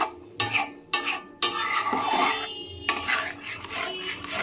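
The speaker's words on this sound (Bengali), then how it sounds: "তিন থেকে চার মিনিট সমানে কিন্তু এইভাবে নাড়তে হবে আর এখানে আমি দুধটা সম্পূর্ণ দিয়ে দিয়েছি" A spoon scrapes around a pan of milky white sauce for pasta in repeated rhythmic strokes, near and fairly loud, with a soft bubbling underneath and no talking.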